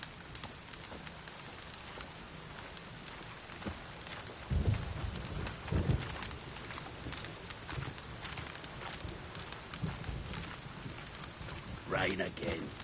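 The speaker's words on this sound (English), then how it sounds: "Rain again. Damn mages." Steady rain pattering in The Witcher 3, a dense hiss of drops with scattered bird calls and dove coos, while a voice speaks intermittently over it and low rumbles rise briefly.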